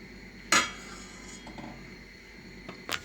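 Washed dishes and cutlery being put away in a kitchen: a sharp clatter, then a few faint clinks and a final rattle, quiet and close.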